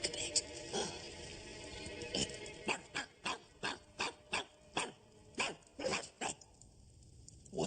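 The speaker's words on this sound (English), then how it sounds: "Come here and bark a bit." A dog barks in a dark night setting, a run of about a dozen short sharp barks spaced evenly, fairly close, over faint background hum.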